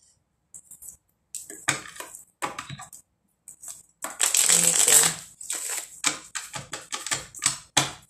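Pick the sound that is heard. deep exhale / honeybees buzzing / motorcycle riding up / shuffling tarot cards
shuffling tarot cards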